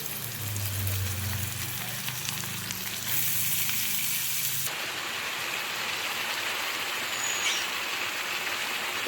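Chopped onions with green chillies fry in oil with a continuous, crackling sizzle. A low hum sits underneath at first, then the bright frying noise carries on steadily to the end.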